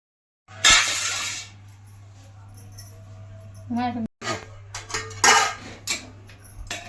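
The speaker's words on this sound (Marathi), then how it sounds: "चला मी ना आता फक्त त्याच्यावर 2 मिनिटासाठी झाकण ठेवते" A lid is set onto a pan of sabudana khichdi, giving a clear metallic clink followed by a few lighter clatters of cookware over a low steady hum, while someone speaks.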